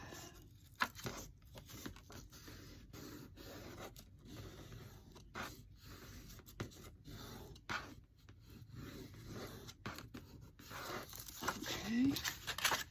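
Paper is folded and creased by hand in a Trader Joe's journal craft, with soft rustles and scrapes running steadily close by. A voice talks faintly over it.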